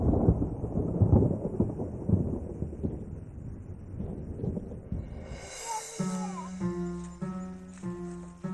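Low rumbling thunder as rain clouds gather, a heavy rolling boom that fades after a few seconds and gives way to music.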